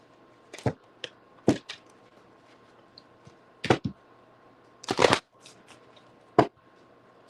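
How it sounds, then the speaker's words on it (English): Quick bursts of riffling card shuffles, several short crisp flurries separated by pauses, close and fairly quiet. "Quick shuffle."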